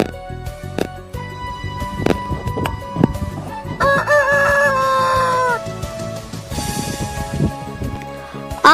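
A rooster crows loudly with some hen clucking, set among rhythmic music and background sounds.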